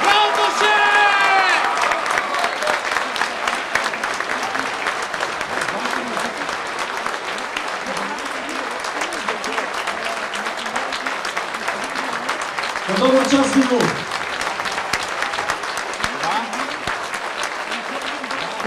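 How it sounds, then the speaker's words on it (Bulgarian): A stadium crowd applauds at a football testimonial match, with sustained dense clapping and some cheering throughout, a brief swell near the end, and a voice talking over it. "Алекса Видов получи аплодисментите и прегръдките преди да влезе в тунела"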